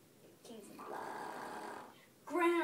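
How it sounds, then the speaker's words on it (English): An older woman snores once, a long raspy breath close to the mic, followed by a voice speaking. "Grandma, you're snoring."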